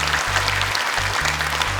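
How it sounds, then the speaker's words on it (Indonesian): Studio audience applause for a young Quran memorization contestant on an Indonesian TV competition show, a dense steady clatter of clapping filling the whole moment over a low sustained musical hum, with no talking. "Tepuk tangan dong untuk Afiko"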